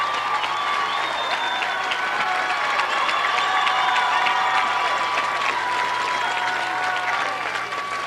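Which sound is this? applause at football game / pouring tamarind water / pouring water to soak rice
applause at football game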